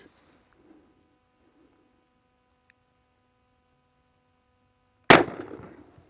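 A single loud, sharp gunshot from a 2021 Colt Anaconda revolver fired double action at a 5-inch target 10 yards downrange at an outdoor range, cracking after several seconds of near silence and ringing out in a short decaying tail.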